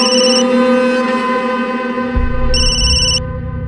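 A phone's electronic ringtone chimes in bursts of repeated high tones over a steady background hum, with a low rumble joining near the end.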